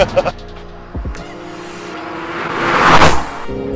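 A car engine revs and swells into a loud roar, building to a peak near the end, close by, with brief voices at the start.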